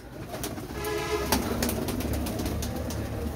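Pigeons coo softly and continuously against a steady background hum, with faint chirps and rustling, no talking.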